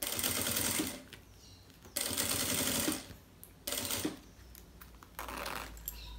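A sewing machine stitching along a fabric edge runs in bursts of rapid stitching, stopping and starting several times with short pauses between runs.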